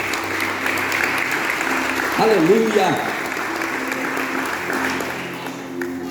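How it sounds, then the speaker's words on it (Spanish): Church congregation applauding in praise, a steady wash of clapping throughout with a voice calling out over it partway through. "Demos aplausos a nuestro Dios."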